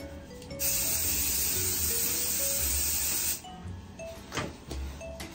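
A spray bottle spritzes in one long continuous hiss for about three seconds, then two short quick sprays follow, close and fairly quiet.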